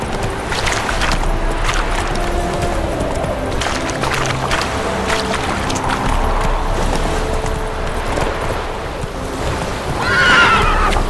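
Roach, the horse in The Witcher video game, whinnies loudly near the end over steady galloping hoofbeats and ambient game sound.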